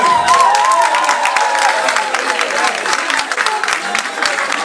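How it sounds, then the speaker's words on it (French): A concert crowd in Belgium claps steadily and fills the room with dense applause, with scattered cheers and voices rising through it for the whole stretch. "Applaudissez pour vous-même."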